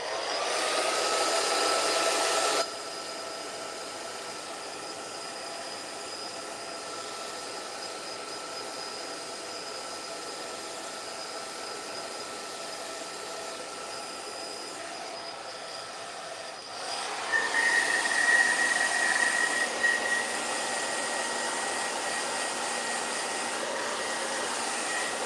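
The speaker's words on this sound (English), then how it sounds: "Gonna blow dry this real quick." A hair dryer blows steadily to dry paint on a sand dollar, a close, constant whooshing roar that shifts pitch and level partway through, with a faint whine riding on top and no talk.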